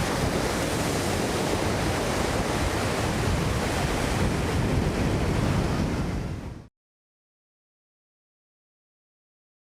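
Ocean waves and surf roll in as a steady, loud broadband roar with no voices, then cut off abruptly to silence about two-thirds of the way through.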